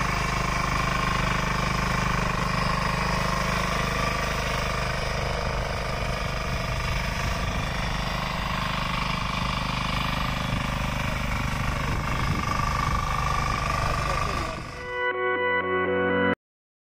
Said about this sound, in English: Now we will show a video on power weeder machine.